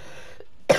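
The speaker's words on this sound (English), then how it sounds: "Sorry if I did cough a few times." A single short, sharp cough bursts out near the end after a stretch of near-silence, close to the microphone, during a FIFA Ultimate Team gaming session.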